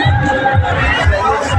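A crowd of visitors mills around at the Mithila Haat fair on New Year, a close, loud babble of many voices and chatter filling the short moment.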